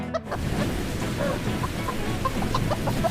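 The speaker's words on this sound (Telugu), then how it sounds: "అయితే ఆ రోజు మంచి వర్షం కురిసింది." Heavy rain pours down in a steady, dense wash of noise, with faint scattered clucks from chickens nearby.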